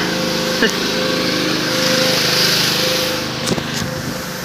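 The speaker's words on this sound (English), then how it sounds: "Past the guy with the pressure washer." A pressure washer runs beside a riverside levee walkway, giving a steady, fairly loud motorized drone throughout with a few brief clatters on top.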